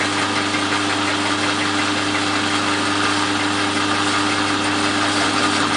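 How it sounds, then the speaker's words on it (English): A machine tool cuts a 45-degree sloping surface on a brass and acrylic workpiece, a steady droning hum with a fine continuous grinding texture, close and unchanging, with no talk. "what we're doing now is we're machining our second sloping surface"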